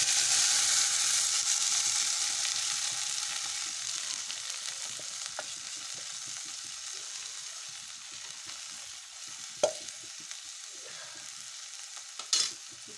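Moth beans sizzle and fry steadily in a hot pan, a continuous loud crackling hiss with a few sharp scrapes or clatters of stirring near the end, no voices.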